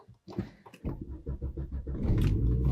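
A Volvo C70 with a missing camshaft sensor cranks in a quick rhythmic series of loud, close churns before the engine catches and settles into a rough, steady idle.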